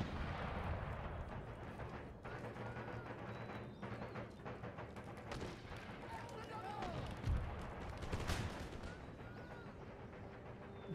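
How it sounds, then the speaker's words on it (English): Mortar fire in Empire Total War booms at a distance amid a rolling battle din of scattered musket shots and crowd noise, with several heavier thuds later on. "the mortars are just doing a lot of damage"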